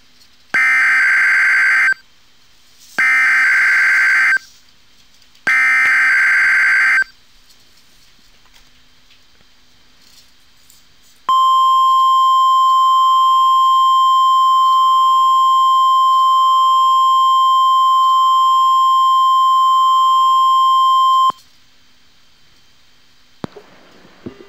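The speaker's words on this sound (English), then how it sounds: "The preceding was a test of NOAA Weather Radio's warning alarm." Emergency Alert System test on NOAA Weather Radio from the National Weather Service in Portland, Oregon: three loud harsh data bursts, a pause, then a long steady two-tone attention alarm for about ten seconds, followed by a short quiet tail.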